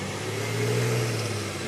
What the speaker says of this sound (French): merci, petit camion, de me déranger pendant mon vlog